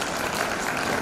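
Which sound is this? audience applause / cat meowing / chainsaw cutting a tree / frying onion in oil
audience applause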